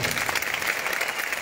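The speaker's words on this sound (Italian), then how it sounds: "Quindi un applauso agli amici della maschera." Audience applause for the mask performers at a tribute event for Antonio Lubrano: a steady, even wash of clapping from a crowd that lasts throughout.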